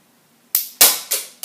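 A mini Lego gun fires four sharp snapping shots in quick succession, close and loud, each a crisp crack with a short decay.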